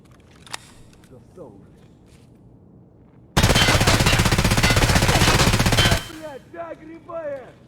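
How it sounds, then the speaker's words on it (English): In the video game Escape from Tarkov, a loud sustained burst of automatic gunfire rattles for a few seconds between quieter stretches in which a voice talks. "Shoot the gun."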